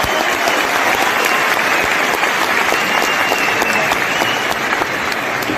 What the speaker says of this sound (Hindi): उन सब के लिए एक जोरदार ताली होनी चाहिए